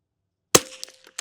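A single sharp rifle shot fired with Eley Ultra Extreme Gen 2 long range ammunition at an outdoor range, a loud close crack with a short decaying tail, followed by faint rustling and a brief second sharp noise.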